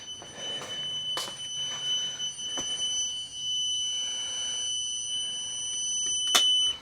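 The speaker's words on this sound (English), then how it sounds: "so that I think works, the audible alarm" Replacement garage GFCI outlet sounding its audible alarm after power is restored, a steady high-pitched electronic tone holding throughout at moderate level, with a few faint clicks and bumps behind it.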